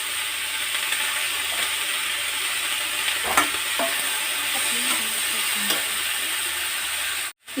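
Potato pieces frying in a pan, a constant close sizzle with a few stirring clicks and scrapes, cut off by a brief silence near the end.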